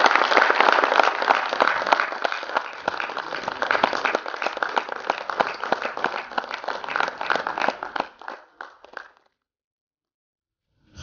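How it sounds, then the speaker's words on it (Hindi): An audience at an awards ceremony applauds loudly and steadily for about eight seconds, then the clapping thins out and stops, leaving near silence. "ताली तो बजते रहना चाहिए।"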